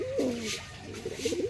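Close, soft cooing from top-quality pigeons, a male and a female, being shown before release: a gliding low coo, then a short pause and a few more burbling notes.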